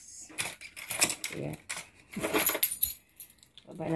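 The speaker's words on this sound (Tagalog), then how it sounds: "Hinahanap ko guys susi ko" Keys jingle and clatter in short scattered bursts while someone rummages for them, close by, with someone talking intermittently between the metallic rattles.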